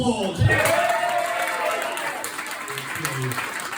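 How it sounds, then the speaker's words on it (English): Audience at a comedy club in Castlefield clapping after a comedian's joke, a steady wash of applause with a voice talking over it, fading slightly toward the end. "I'm not stopping till you applaud."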